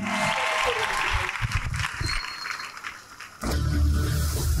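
A church congregation applauding and cheering for Jesus during a deliverance service, loud sustained clapping that eases briefly before surging back at full strength, with voices mixed into the crowd noise.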